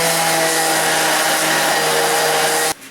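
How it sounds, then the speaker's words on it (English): A power sander grinds down a protruding wooden button plug over a hidden screw, a loud steady whine with a broadband rasp that holds for nearly three seconds, then cuts off abruptly. "we're going to sand off the little bit that's protruded above the piece of wood"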